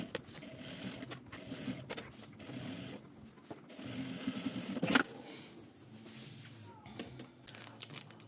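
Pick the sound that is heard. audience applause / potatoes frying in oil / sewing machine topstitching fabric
sewing machine topstitching fabric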